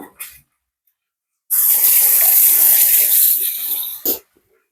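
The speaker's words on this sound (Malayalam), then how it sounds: "ഇച്ചിരി വെള്ളം ചേർത്ത് കൊടുക്കാം കേട്ടോ" Water poured into a cooking pan while making Kerala potato mezhukkuvaratti, a steady splashing rush lasting a few seconds, loud and close, with brief knocks just before and after.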